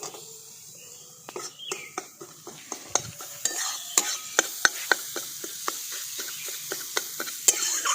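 Pointed gourd pulp fries in a pan while a utensil stirs it, giving a soft sizzle broken by regular scraping and tapping strokes, close and fairly loud.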